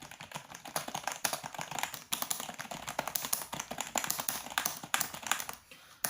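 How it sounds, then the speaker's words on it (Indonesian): Typing on a Rexus BattleFire K9D semi-mechanical keyboard, a fast, steady stream of fairly loud, close clacking keystrokes with short gaps and no talking. "Kalau untuk suaranya sendiri, karena ini semi mechanical keyboard ya,"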